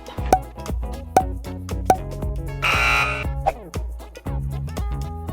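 A game timer rings out with a loud, buzzing electronic alarm: repeated harsh croaking pulses in a steady rhythm with a brief sustained rasp midway, close and dominant with no talk.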